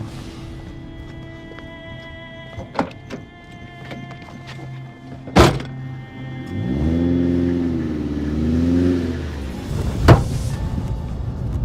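A car engine rises in pitch as it pulls away nearby, swelling for a few seconds, with sharp knocks and clunks before and after.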